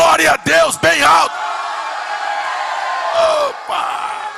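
Church congregation loudly shouting praise to God, a big crowd roar of yells and whoops that swells and holds, right after a few short bursts from a voice.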